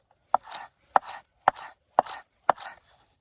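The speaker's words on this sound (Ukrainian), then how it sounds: "Нарізання зеленої цибулі." A Civivi Timberbark pocket knife chops green onion on a board with five crisp, evenly spaced strikes about half a second apart, each a sharp close knock followed by a brief soft slice.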